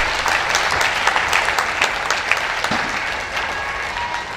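A crowd at a business chairman's speech applauds loudly and continuously, a thick, even roar of clapping that tapers slightly toward the end.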